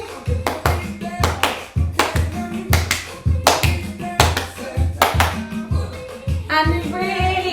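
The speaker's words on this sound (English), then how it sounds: "Do some clapping." Hand claps land in a steady, even rhythm over a driving beat during a New Year dance warm-up, each clap sharp and close, repeating through the whole stretch with music underneath.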